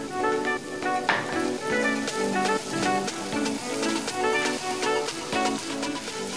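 Onions caramelizing with added sugar sizzle steadily in a hot pan, a bright crackling hiss with rhythmic stirring or scraping strokes throughout, close and fairly loud with no talk.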